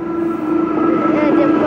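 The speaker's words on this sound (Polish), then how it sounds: "Jedzie towarowy w końcu." Freight train carrying coal rolling past, a loud steady rumble with a sustained droning tone and faint squeals, close by and continuous throughout.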